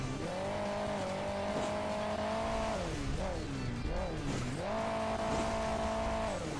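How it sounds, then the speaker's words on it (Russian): Race car engine in the Hill Climb Racing 2 mobile game, revving loud and steady with rising and falling pitch swings mid-clip before settling back to a high sustained drone, alone without talk. "Просто рвет, рвет там мотор"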